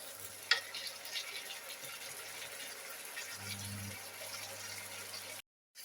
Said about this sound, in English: So I'll have to simmer for another 5 minutes